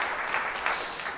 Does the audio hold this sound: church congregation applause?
yes